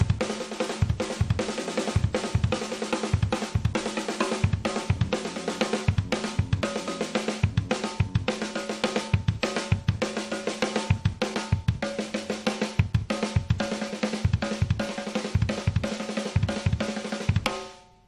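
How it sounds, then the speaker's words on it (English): A drummer's kit pounds out a fast, continuous pattern alternating between snare and kick drums for nearly twenty seconds, dense and driving with cymbal wash, close up with no voices, ending abruptly. "is broken up between the snare and the kick drums"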